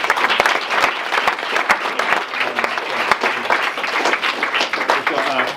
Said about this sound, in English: So if we will give Laura a round of applause.